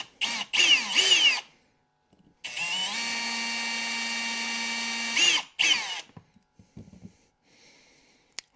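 Drill boring into a soft brass Rolls-Royce badge, with short revving bursts, then a sustained high whine for about three seconds, then brief spurts and faint rattles as it stops.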